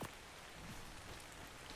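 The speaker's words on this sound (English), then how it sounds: "Oh, it is raining." Steady rain falls in the game ARK: Scorched Earth, a constant even hiss of drops filling the short stretch with no voices over it.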